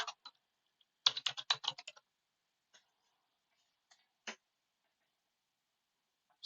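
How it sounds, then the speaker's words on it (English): Computer keyboard keys tapped in a quick burst of about a dozen strokes, followed by a few isolated clicks separated by quiet, close and clean with no voices. "I'm just going to type podcast."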